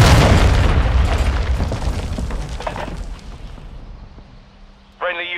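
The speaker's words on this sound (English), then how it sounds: "Friendly cruise missile approaching target." A cruise missile strike lands in Call of Duty: Modern Warfare II multiplayer as a loud, rolling boom that slowly fades over several seconds, with a brief voice callout near the end.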